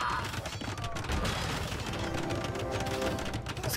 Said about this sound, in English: Builder's getting shot by Blue's castle.